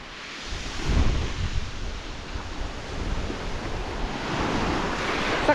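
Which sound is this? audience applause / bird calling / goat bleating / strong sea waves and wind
strong sea waves and wind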